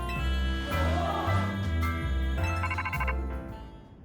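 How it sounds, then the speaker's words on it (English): A phone ringtone in the video game Pokemon Legends Z-A, a bright repeating electronic melody with chiming tones and a steady rhythm, heard alone and fairly clear before trailing off at the end. "Oh, that's my phone,"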